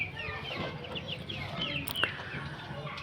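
Tiger chicken chicks on a farm, a busy chorus of soft clucks and high peeping chirps over steady background noise, close and moderately loud.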